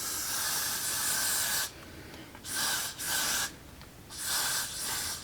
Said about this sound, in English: I'm gonna spray carefully